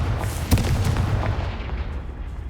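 A Confringo fire spell explodes in the video game Hogwarts Legacy: one sharp, loud blast followed by a rumbling boom that fades over a couple of seconds.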